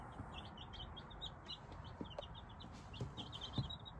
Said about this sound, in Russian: У нас ночуют цыплятки.